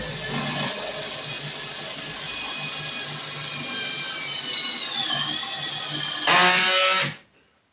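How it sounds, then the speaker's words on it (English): Cordless power drill spinning up and whining steadily as it bores into a hard white oak board during a picture frame build, the motor pitch shifting near the end before a louder burst and abrupt stop. "let's see if these drills are actually worth something"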